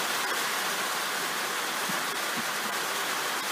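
Steady rain falls outside, making an even, dense hiss of moderate loudness with no voices.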